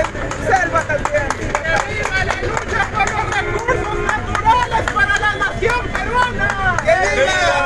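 Applause and cheering from a crowd at a charity collection in the Villa Pachacútec market, loud, continuous clapping mixed with excited voices and shouting close by.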